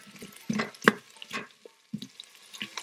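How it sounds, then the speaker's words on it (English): Chopped onion sautéing in an Instant Pot, with intermittent soft sizzling and scraping stir strokes at close range and brief pauses between them; no talking. "we're gonna saute the onion first"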